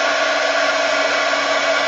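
A hair dryer blows steadily at close range to dry paint on a craft project, a loud continuous whooshing whir with no break.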